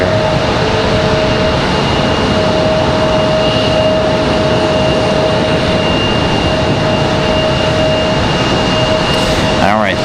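An American Airlines Boeing 777 at Raleigh Durham International gives a loud, sustained jet engine roar with a steady high whine, continuous and nearby, while talk runs faintly underneath.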